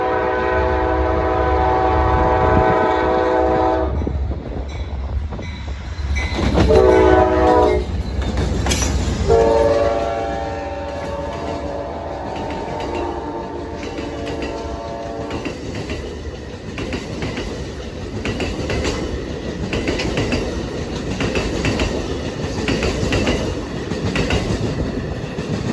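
Amtrak train 130 in Rondout, Illinois sounds a loud multi-tone horn in long blasts, then thunders past with rumbling wheels and rhythmic clickety-clack of railcars that carries on steadily.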